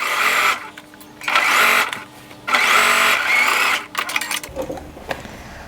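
A sewing machine back stitching fabric for a pair of shorts, running in three loud buzzing bursts separated by brief pauses, ending in softer clicks and handling noise, with no talking.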